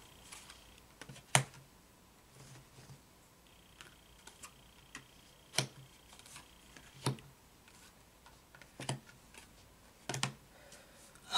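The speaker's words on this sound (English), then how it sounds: "I'm turning cards over." Tarot cards are flipped over one at a time, giving sparse, sharp little taps and flicks spaced a second or two apart against a quiet room, with no voice.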